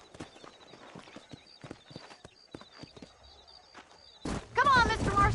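Horse hooves clip-clopping in an irregular walking rhythm in Red Dead Redemption, soft and moderately close, with faint background tones and a louder burst of noise at the end.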